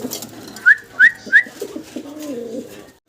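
A pair of large Gopalganj pigeons call up close: three quick rising coos in a row, followed by a lower, drawn-out rolling coo, with faint background noise.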